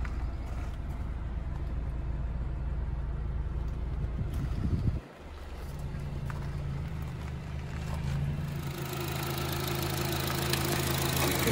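Four-cylinder engine of a 2013 Honda CR-V EX-L with 160k miles idling steadily under the hood, a close, even low rumble with a brief dip midway, no talking.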